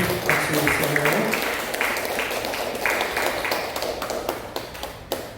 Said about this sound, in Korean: 예, 박수 주세요.